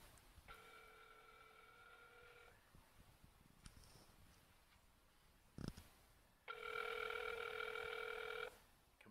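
Two bursts of an electronic telephone ring, each lasting about two seconds and separated by a pause, come through a speakerphone during a call to a fan, with faint room noise between rings.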